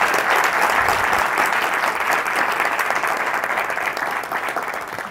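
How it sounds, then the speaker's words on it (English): A lecture audience welcomes a guest speaker, a telecom CEO, with steady, full applause, many hands clapping in a dense, even roar that stays strong for about five seconds and begins to thin near the end. "So please give a round of applause to Mr."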